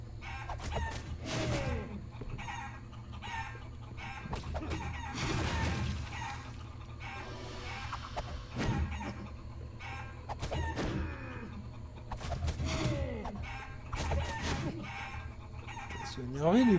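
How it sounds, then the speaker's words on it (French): Chickens cluck and a rooster crows repeatedly in the video game Guacamelee! 2, short bursts of fowl calls spread across the stretch over a low steady game background, moderately loud and near. "Les poules."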